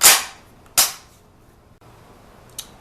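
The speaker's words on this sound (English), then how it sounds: "Pull the slide back, lock it back, and look." The slide of a Chiappa/Citadel M1 carbine in .22LR is pulled back and locked with two loud, sharp metallic clacks close together, then a faint click a moment later.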